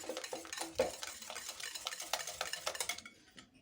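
Cake batter with oil being whisked by hand in a bowl, a quick, uneven series of soft clicking and scraping strokes close by and fairly quiet, stopping abruptly near the end with no talk.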